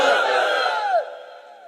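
At an Islamic sermon gathering, a large crowd of married men roars a single takbir response in unison, one sustained collective shout, loud and reverberant, that falls in pitch and fades out after about a second and a half.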